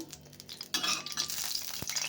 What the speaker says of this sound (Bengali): এদিকে দেখো তেল গরম হয়ে গেছে অলরেডি, আমি কড়াইতে তেল দিয়ে দিয়েছিলাম